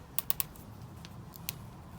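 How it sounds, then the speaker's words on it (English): Zip ties ratchet tight around the grip of a 2017 Honda Rebel motorcycle, a quick burst of three sharp clicks followed by two fainter ones. "we'll put a couple zip ties around it"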